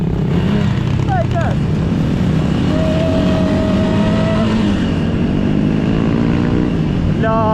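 A sport motorcycle engine revs in short bursts and then holds a steady drone, close by at a motorcyclists' gathering, with people talking over it.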